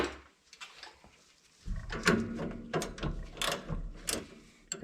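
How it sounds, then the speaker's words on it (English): Ratcheting wrench turning a 7/16 nut while removing throttle linkage on a Taylor Dunn Model R utility vehicle: close bursts of quick metallic clicking and ratchet rasps, irregular and fairly loud, with brief pauses between strokes. "got my ratcheting wrenches, which the nut is a 7/16."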